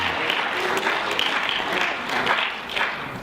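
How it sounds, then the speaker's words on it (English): A room full of people claps steadily, a continuous wash of applause at moderate loudness with no voices standing out. "Let's have a round of applause for our 5 judges"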